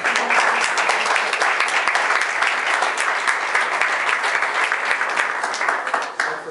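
Sustained applause from a crowd at a thank-you party, dense steady clapping that stays loud for several seconds and tapers slightly at the end.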